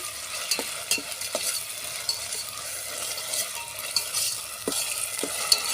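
Stone-ground masala with onion, green chilli and peanuts frying in oil over a wood-fired stove, a steady close sizzle broken by irregular scrapes and taps of stirring.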